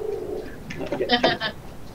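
A pet bird, apparently a dove or pigeon, coos softly indoors during a live chat stream, giving a few low, throaty calls in a quiet room.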